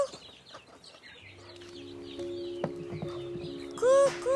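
Chickens cluck faintly in the background, with short scattered calls, a louder squawk near the end, and other farmyard noise around them.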